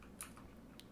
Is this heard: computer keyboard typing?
yes